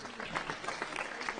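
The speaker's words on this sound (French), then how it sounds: "On applaudit." Faint applause from the audience at a student union debate at an engineering school, a short burst of scattered clapping heard from a distance.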